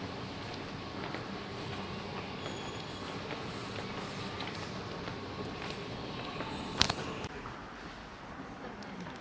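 Underground metro station ambience: a steady, enveloping rumble of trains and machinery with a brief sharp metallic clank near the end, then a slight drop in level.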